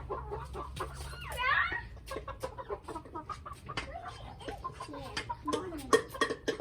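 Chickens cluck and squawk close by as they peck at food scraps in a backyard coop, busy overlapping calls with a brief louder squawk, over faint low rumble.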